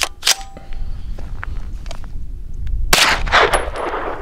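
Five sharp 9mm reports from cheap Herter's FMJ ammunition ring out at a shooting range, loud and close, two quick shots up front and a tight cluster near the end, with faint clinks and shuffling between them.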